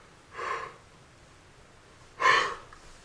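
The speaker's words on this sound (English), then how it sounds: "I yawned." Two breathy exhalations, one short and a louder longer one a moment later, like someone yawning close by.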